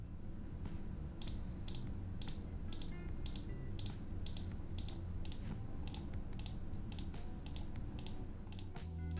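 Huano switches on a Savio Valiant gaming mouse click in a steady, evenly spaced series of about fifteen crisp, quiet presses, close up over a faint background hum.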